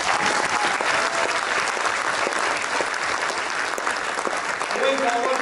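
An audience claps loudly and steadily in a dense, continuous burst of applause for a speaker at a talk, with a voice faintly audible near the end.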